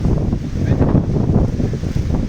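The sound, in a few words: strong wind blowing on a hill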